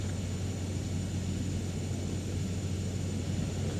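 A jet's aircraft engine hums during aerial refueling in the video game Ace Combat 7, a steady droning rumble with a constant tonal whine, even and unbroken throughout with no talk.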